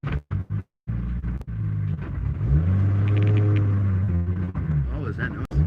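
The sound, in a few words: freshly built 2JZ engine car rumbling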